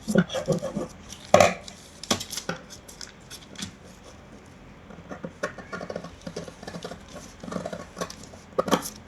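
Scissors snip through fabric while the neckline of a frock is cut, giving irregular crisp clicks and rustles spread in short clusters with quieter gaps between.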